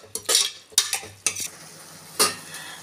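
Green chillies being stirred into sautéed onions in a pan while making tomato rice, with several scraping stirs over a soft sizzle and a final stroke after a pause.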